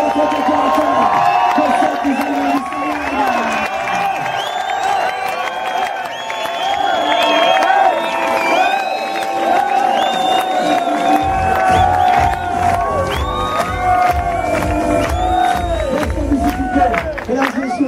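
A large crowd at a Club Med Kemer evening party cheers and shouts excitedly, with whoops and clapping building into a loud, sustained roar of voices.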